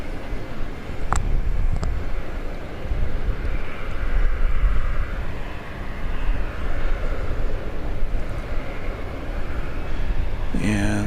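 Airplane at Dallas Love Field, an older 20th-century type, rumbling as a steady broad engine roar throughout at moderate distance, with a couple of faint clicks and a short rattle near the end.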